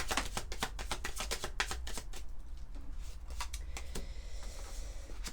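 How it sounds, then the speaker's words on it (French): A deck of tarot cards is shuffled and then drawn, giving a quick, close run of crisp riffling snaps that slows into a few softer slides and flicks, with no one speaking. "On va prendre quelques cartes du tarot de Laura."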